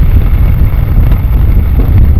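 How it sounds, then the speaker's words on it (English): Strong gusts of wind from a thunderstorm buffet the microphone with a constant low roar, loud and close, with no voices, at a backpacking camp in Indiana. "Really windy."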